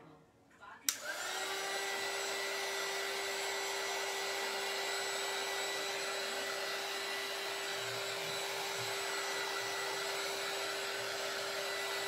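A hair dryer starts with a click and then blows a steady, loud whine and rush of air as it dries a painted board, running on without a break.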